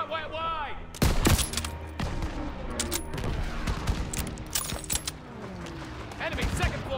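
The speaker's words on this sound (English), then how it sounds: "Lay suppressive fire so they can take out those flat guns." Call of Duty: WWII battle with loud bursts of rifle and machine-gun fire, sharp shots and rapid volleys crackling continuously amid clattering mechanisms and combat noise.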